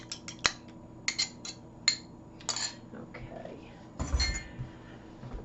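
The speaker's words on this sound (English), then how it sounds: "I'm going to scramble them a little bit." A fork beats two eggs in a bowl, giving quick bursts of clinking taps against the dish, with a few pauses and a louder clatter near the end.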